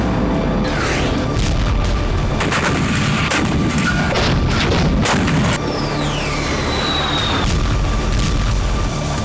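Loud, continuous battlefield barrage of heavy booms and blasts from 910-kilogram GPS-guided bombs striking targets during the Russia-Ukraine war, with repeated impacts and a rising whistle partway through.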